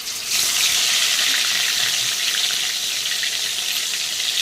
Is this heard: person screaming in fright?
no